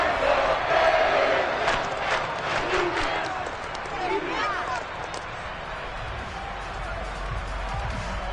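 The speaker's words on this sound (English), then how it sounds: "the crowd getting into it as we come up on a big third down" Football stadium crowd roaring and cheering ahead of a big third down, a dense continuous wash of many voices with a few sharper yells, steady and loud throughout.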